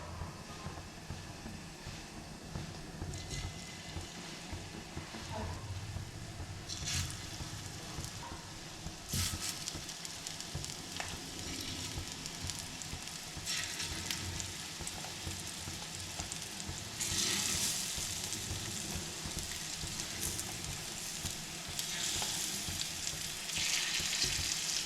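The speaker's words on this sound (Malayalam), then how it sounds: "പിന്നെ സൈഡിൽ നമ്മൾ ഫിഷും ഫ്രൈ ചെയ്യാണ്." Fresh fish fries on a stone dosa griddle with a continuous close sizzle and crackle. The sizzle swells and fades in bursts over nearly half a minute, with occasional faint clinks and no talking.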